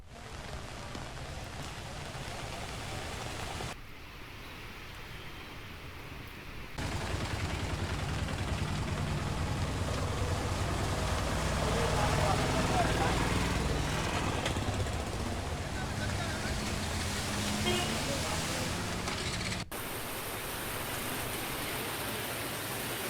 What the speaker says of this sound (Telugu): రాత్రి నుంచి ఎడతెరిపి లేకుండా భారీ వర్షం కురుస్తోంది.